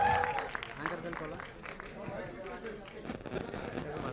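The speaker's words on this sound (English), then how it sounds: "Can we have a huge round of applause for the team?" An audience at a movie team's media Q&A session in Hyderabad claps, a scattered patter of applause mixed with crowd noise and voices.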